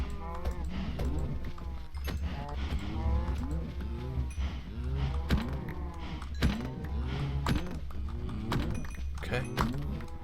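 Minecraft cows moo repeatedly and overlap as they are killed for leather, with thunking hit sounds mixed in over a steady low game background.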